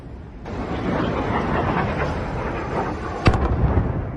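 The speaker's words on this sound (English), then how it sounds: "these are Russian cruise missiles hitting targets in Lviv, presumably at this arms depot." Russian cruise missile explosions at an arms depot in Lviv, heard as a steady distant roaring rumble with one sharp, louder blast cracking through near the end.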